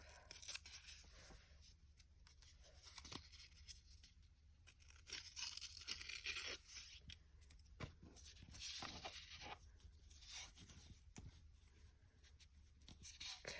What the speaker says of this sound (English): Tear this part off.